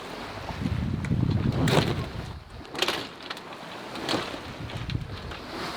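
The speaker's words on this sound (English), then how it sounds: "as the waves roll us, they just roll the wind out the sails and they slat from side to side, make a horrendous noise" Sails of a sailboat slat from side to side as swells roll the wind out of them in light air off Indonesia, heard as faint repeated flapping bursts over soft wind and water noise.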